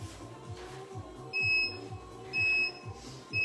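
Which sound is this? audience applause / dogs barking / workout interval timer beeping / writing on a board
workout interval timer beeping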